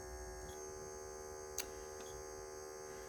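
The bobbin winder motor of a Bernina sewing machine runs with a faint, steady electrical hum, broken only by one brief click partway through.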